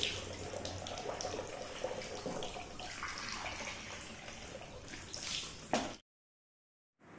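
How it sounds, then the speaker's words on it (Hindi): Cold tap water runs and splashes steadily as someone washes their face and hands, a continuous close hiss of flowing water that stops abruptly near the end. "ठंडे पानी से मुंह हाथ धोने का अपना ही मजा।"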